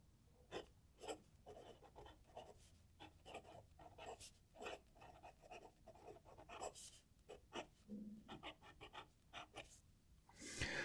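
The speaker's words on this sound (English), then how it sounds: "So we'll write with this one." Fountain pen scratching across paper in short, quiet strokes with brief pauses between words, close up and faint with no talking.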